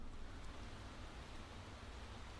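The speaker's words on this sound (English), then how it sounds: "Rain for practice, that's interesting." Steady, faint rain hiss from a wet practice session in the racing game Motorsport Manager, an even wash of noise with no voices.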